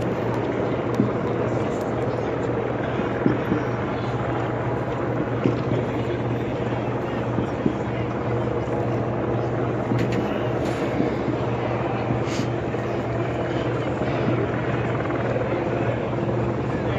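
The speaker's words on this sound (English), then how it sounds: "Helicopters." Helicopters hover and fly over a street protest on Wacker Drive, a steady rotor drone with city crowd noise and occasional clatter around it.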